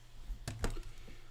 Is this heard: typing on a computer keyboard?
yes